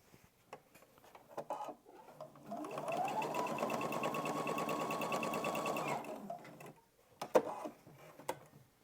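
A sewing machine runs a steady straight seam across a quilted Easter egg table runner, a fast even whirring chatter lasting a few seconds, with soft handling clicks before and after.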